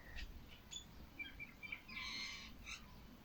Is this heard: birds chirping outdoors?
yes